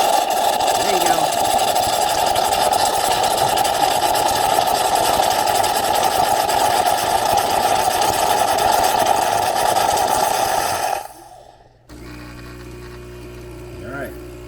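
A $50 Black Friday espresso machine steams and froths milk with a loud, steady hiss and buzzing pump drone. The noise runs unbroken for about eleven seconds, then cuts off abruptly, leaving faint handling sounds.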